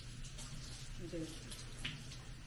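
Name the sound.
water running while rinsing a bag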